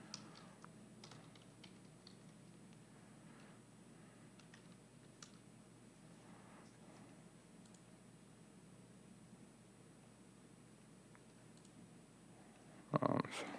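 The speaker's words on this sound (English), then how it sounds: "I gotta type in again." Typing on a computer keyboard, a steady stream of soft, close key clicks over faint background hiss, ending in a louder burst of clicks at the end.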